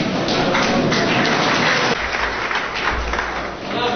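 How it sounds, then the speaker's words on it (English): Farmers in an audience clap for themselves while standing, a loud, dense wash of applause that fills the space and softens slightly partway through, with crowd murmur beneath. "Please stand up and clap for yourself."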